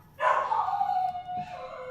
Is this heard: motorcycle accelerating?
no